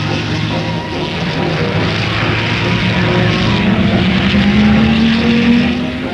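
A 1961 racing car roars past at the New Zealand Grand Prix, coming off the hairpin on the last lap, as a loud continuous engine drone that rises in pitch as it accelerates over several seconds.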